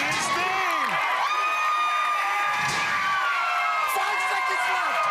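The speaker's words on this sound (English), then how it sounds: "The crowd chanting his name." Loud, continuous crowd of voices at an American Ninja Warrior Dallas finals course, chanting a competitor's name and cheering in rising, wavering surges throughout, with commentary voices mixed in.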